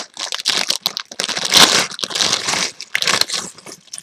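A plastic LEGO parts bag being torn open, with close, crisp crinkling and rustling in uneven bursts across a few seconds.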